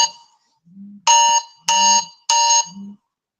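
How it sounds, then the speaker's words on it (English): A household electronic alarm sounds three loud, bright, evenly spaced buzzing tones, each about half a second long, with low soft beeps between them, heard close and clear with no talking. "the alarm going off"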